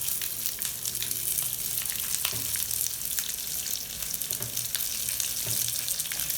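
Sliced onions and garlic fry with curry leaves, groundnut and oil in a pan, producing a dense, constant crackling sizzle close up, with occasional louder pops and spatters.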